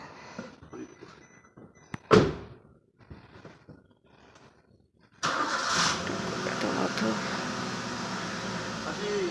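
A car engine cranks and catches with a short loud burst, then settles into a steady, fairly close running drone after a pause, with faint household noise and voices earlier.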